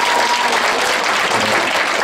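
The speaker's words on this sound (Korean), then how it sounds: "박수 좀 부탁드리겠습니다" Steady, dense applause from an audience at a volunteer group's harmonica performance, loud and continuous for its whole length with no voices over it.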